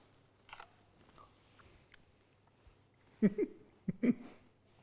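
Someone eats a spoonful of minty pea pond slime, with a few soft, close wet bites and mouth sounds clustered near the end over a quiet background.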